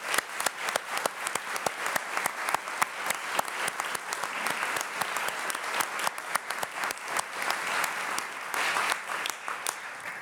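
A room full of people applauds members of a court at a Law Day 2024 celebration, steady dense clapping with sharp individual claps standing out, sustained evenly for about ten seconds.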